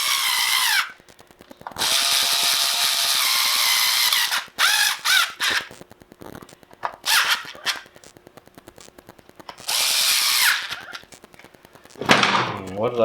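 A low-torque power driver backs out aluminium screws on a BMW K1300R motorcycle, whirring in several bursts of a second or two each, separated by pauses filled with small clicks and tool handling, close and fairly loud.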